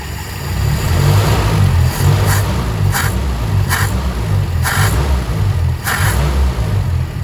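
A carburetted motorcycle engine runs loud and close at a steady low rumble, broken by about six sharp throttle blips spaced roughly a second apart, each giving a brief rising rev.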